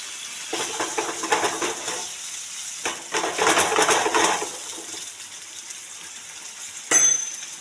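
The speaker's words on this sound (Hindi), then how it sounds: "ऑयल हो चुका है हमारा भी गरम। यहाँ पर अभी इसके अंदर हम डालेंगे 500 ग्राम पनीर कटा हुआ।" Cut paneer, 500 grams, dropped into hot oil in a pan, with bursts of sizzling and frying crackle, then a stirring scrape and a brief metallic clink near the end.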